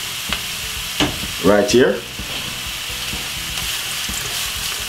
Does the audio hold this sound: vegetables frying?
yes